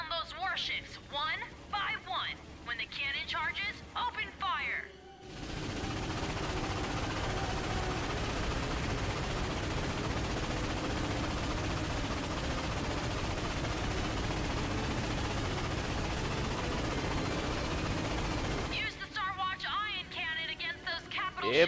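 Sustained heavy cannon fire in the video game Ratchet & Clank roars continuously for about fourteen seconds, loud and dense, bracketed by brief bursts of talk at the start and end.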